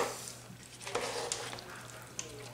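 Spoon stirring through a creamy jalapeno popper macaroni salad in a bowl, giving soft wet squishing and scraping strokes close by, with a few light clinks against the bowl.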